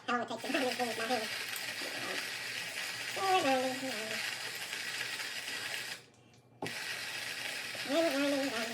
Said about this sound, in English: let's get where how long it takes to grind these beans, my hand